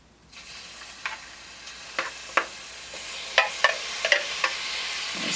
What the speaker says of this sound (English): I'm gonna try to get these in here and start getting them browned